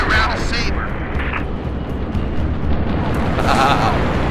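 Missile launches and booming explosions from the Halo Reach campaign mission Long Night of Solace roar loudly and continuously, with game voices calling out over the rumbling blasts.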